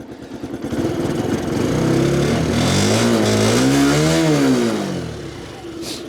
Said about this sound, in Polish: Spróbujemy dać mu troszeczkę gazu, zobaczymy jak się kręca.